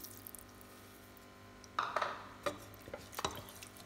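Water is poured into sautéed rice inside a pressure cooker for white brinji rice. The sound is a quiet splashing that begins partway through in a few soft bursts of liquid.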